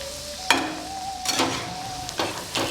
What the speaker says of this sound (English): This cashew nut is to be deep fried and then ground to a fine paste.